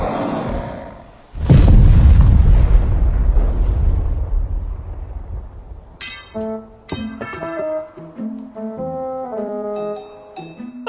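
A huge animated explosion set off by skeletons booms loudly and rumbles away over several seconds, followed by a bright sequence of chiming game-reward tones and sparkling jingles.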